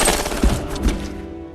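Machine-gun fire in a Korean War film battle scene, a close, loud burst of rapid shots that quickly trails off into rumbling reverberation.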